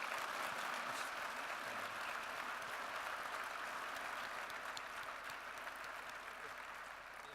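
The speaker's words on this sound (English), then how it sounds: "how about a round of applause" Sustained audience applause at a summit gathering, steady dense clapping that holds throughout and fades slightly toward the end, with no talk over it.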